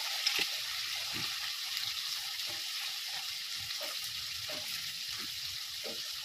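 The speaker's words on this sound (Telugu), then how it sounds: "కొద్దిగా అల్లం పేస్ట్, ఇది ఆయిల్నే వేయించాలి అల్లం పేస్ట్" Ginger paste fries in oil in a pan for gongura pachadi, a soft, steady sizzle with occasional light stirring scrapes and clicks, close and fairly quiet.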